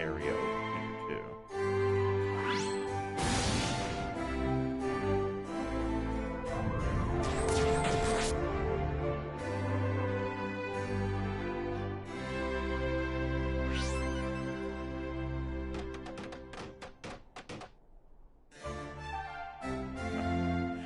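Building noises from the video game ActRaiser Renaissance play over layered game music, with repeated bright tapping like hammers striking nails in short bursts scattered across the passage.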